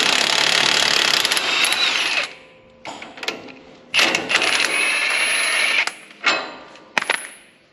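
A power tool, likely an impact wrench, undoes a 27mm suspension bolt on a Ford Ranger Raptor, firing in several loud rattling bursts of varying length separated by short pauses.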